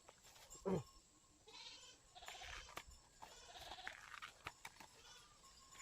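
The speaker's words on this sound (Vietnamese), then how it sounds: "Dê mình về rồi mọi người." Goats bleating in a forest setting where bamboo shoots are picked, with one fairly close bleat early on, then fainter animal calls and rustling mixed with low voices.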